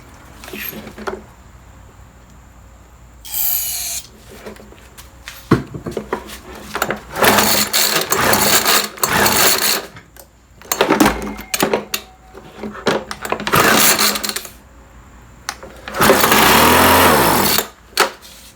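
A WeedEater leaf blower engine fires up on starter fluid in bursts, each run sputtering and revving loudly for a second or two before dying, with quiet gaps between attempts.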